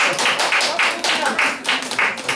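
Audience applause at a Q&A screening for the Korean animated film Leafie, A Hen into the Wild: steady, dense clapping from a crowd in a hall, loud and continuous throughout.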